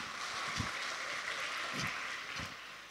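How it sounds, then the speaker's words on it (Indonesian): A gathering at a religious study session gives a faint, distant round of steady applause for the people who asked questions, a dense hiss of many hands clapping without talk. "Tepuk tangan untuk para penanya semuanya."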